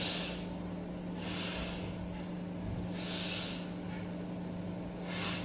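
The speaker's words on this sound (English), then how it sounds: "Let's take 3 breaths here." Slow, deep yoga breaths, several long airy exhales through the nose spaced a couple of seconds apart, close and soft over a low steady background hum.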